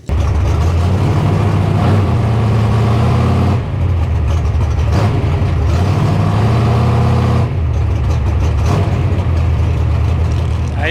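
Holden HT Monaro 'Kryptonite', a big-block no-prep drag car, racing a purple Camaro: a loud, continuous roar of heavy engines that holds steady with surges and dips in revs, close and filling the whole stretch.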